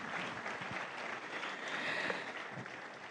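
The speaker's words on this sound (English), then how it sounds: "If you want to clap, please go ahead and clap." Audience clapping at a formal event, a dense, even wash of applause from a sizeable crowd, moderately distant and sustained throughout without pauses.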